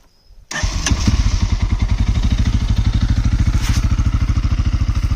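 A Loncin 250 GY-3 SX2 motorcycle engine with about 19,000 km on it catches after a brief crank and settles into a loud, close, steadily thumping idle.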